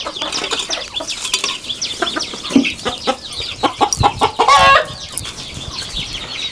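About thirty chickens cluck and squawk inside a poultry shed, with a few sharper calls and some rustling or wing flaps, fairly close.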